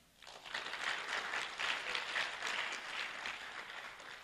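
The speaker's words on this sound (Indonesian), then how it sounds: "Tepuk tangan." A crowd applauding steadily, a dense wash of clapping that starts abruptly and holds for a few seconds before easing slightly.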